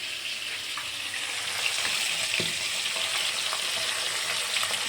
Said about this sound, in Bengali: মাছ ভাজা প্রায় হয়ে গেছে। লেজাগুলো ভাজা হচ্ছে